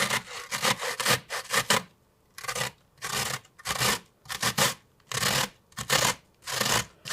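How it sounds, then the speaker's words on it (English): An onion is grated by hand, a steady series of rasping strokes back and forth, close and distinct, each scrape separated by brief pauses in an even rhythm. "the reason we want to grate the onion is it keeps you from having chunks of onion in your sauce"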